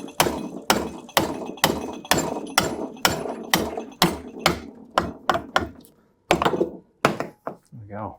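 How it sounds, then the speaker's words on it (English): Repeated sharp metallic hammer blows tap out a front lower arm suspension bush on a Land Rover at a steady rhythm, loud and close, pausing briefly before a few final harder hits. "So we're just going to hopefully just tap this out now."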